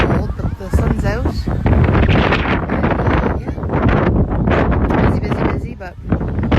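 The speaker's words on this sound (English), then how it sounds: "It's really windy today" Strong wind by the waterside buffets the microphone in loud, continuous rumbling gusts on a sunny day with the tide in, and a voice comes through faintly under the roar.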